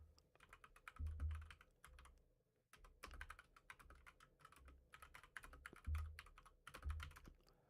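Computer keyboard keys and mouse buttons click in rapid irregular bursts during online golf gameplay, fairly close, with a few low thumps and short pauses between flurries.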